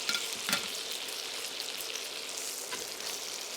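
Steak sizzling in a pan pooled with garlic butter, onions and rosemary gives a steady, close frying crackle with a few brief spattering bursts and no voices.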